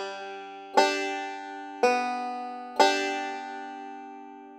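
Bluegrass banjo picking the second two measures of a phrase: three bright plucked attacks about a second apart, each ringing out with long sustain, played alone and close.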